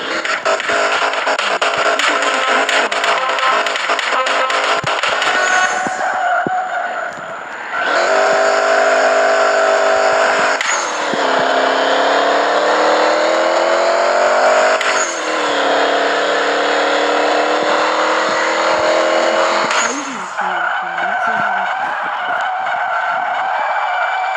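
A Camaro fitted with an Opala transmission revs hard and loud, its engine note climbing and then dropping sharply at each of several gear changes, with brief lulls between pulls and no talking.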